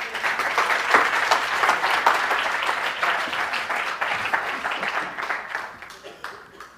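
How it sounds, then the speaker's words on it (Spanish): Applause from a conference audience welcoming speaker Pere Rovira to a Big Data talk, a loud, dense sustained clapping that thins and fades toward the end, with some voices mixed in. "Os pido un fuerte aplauso para Pere Rovira"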